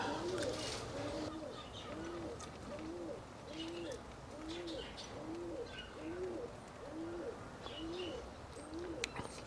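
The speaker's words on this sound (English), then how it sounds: "Pigeons are at it again, non-stop." Pigeons cooing under a neighbour's solar panels outdoors, a steady repeating series of soft throaty coos at an even rhythm, moderately close with constant background ambience and no talk.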